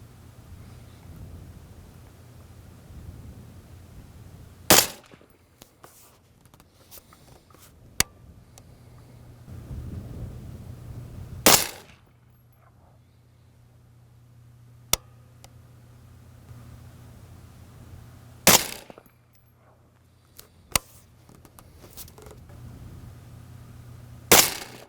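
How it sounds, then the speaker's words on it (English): Shots from a Noveske AR-15 rifle chambered in 22 Nosler, several sharp loud outdoor reports spaced seconds apart, with fainter clicks between them over a low background hum. "It's time to shut up and shoot."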